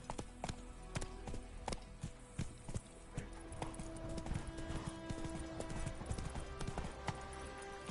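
Horse hooves clip-clop in steady rhythmic beats in The Witcher 3, sharp, close and fairly loud over game background sound, shifting to a quicker, denser trot partway through.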